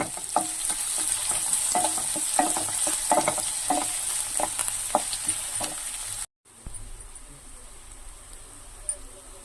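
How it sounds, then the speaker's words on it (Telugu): Onions and curry leaves fry in a pan with a steady loud sizzle and crackle, broken up by stirring scrapes. A short gap comes partway through, then a quieter sizzle resumes. "ఇప్పుడు కొంచెం ఫ్రై అయినాయి కదా ఆనియన్స్"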